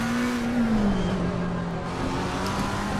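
A race car engine in Assetto Corsa Competizione as the car leaves the pits alongside another, holding a loud, steady drone whose pitch dips slightly and then stays level, with no talking.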